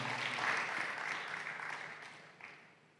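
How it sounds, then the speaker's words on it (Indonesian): A church congregation applauds at a Sunday service, a soft, fairly distant wash of clapping that swells briefly and then fades out. "Beri tepuk tangan yang mulia buat nama Tuhan."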